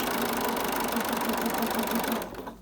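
Sewing machine back stitching through three layers of fabric on a cloth face mask, a steady close rapid whirring stitch that runs continuously then slows and stops near the end, no talking.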